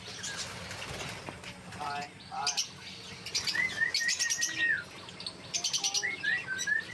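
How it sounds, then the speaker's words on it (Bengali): Lovebird chicks chirp and tweet in quick, high bursts, busy and close, with a murmur of background noise between calls. "বাচ্চা পাখি"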